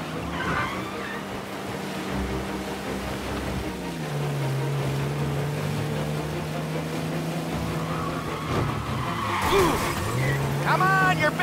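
A car speeds through a chase in Mafia Definitive Edition, its engine droning steadily and shifting pitch partway through, with tire skids and a burst of crashing near the end, under game dialogue.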